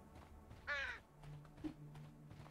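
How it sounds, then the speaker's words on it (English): A single crow gives one harsh, clear caw at middle distance over a faint low ambient hum in the Sherlock Holmes: Crimes and Punishments video game, followed by a small soft knock. "Where am I hearing these birds?"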